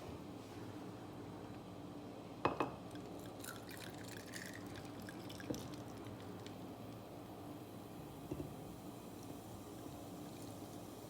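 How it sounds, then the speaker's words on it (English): Moscato wine poured into a glass holding lemonade for a cocktail, a soft, faint liquid trickle running steadily for several seconds with a few small clinks near the start, no voices present. "And then the rest I'm gonna pour in the Moscato."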